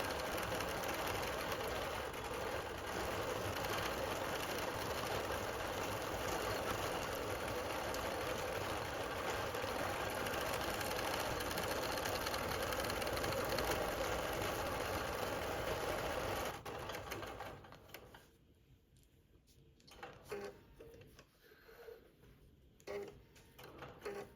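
Bernina Q-matic longarm quilting machine sewing a design, a steady, fairly quiet mechanical whir with a constant high whine that runs for most of the time, then stops, leaving faint scattered clicks and handling sounds.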